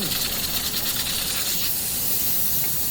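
Loud, steady hiss of steam venting from a pressure cooker whistle while cooking mutton karahi, a continuous sharp whoosh close by.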